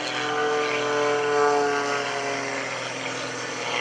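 Gary Ward's aerobatic propeller airplane performs at the Greenwood Lake Airshow, its engine holding a loud, steady buzzing drone with a rich harmonic tone that swells slightly and then eases. No voices are heard.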